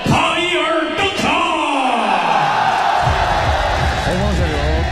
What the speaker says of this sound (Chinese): 让我们以热烈的掌声有请红方选手塔伊尔登场